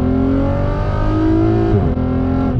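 Volkswagen R36 with a straight-piped exhaust, DSG gearbox downshifting: a loud, continuous raspy engine drone with rising and falling pitch, and a sharp blip and rev change near the end of the shift.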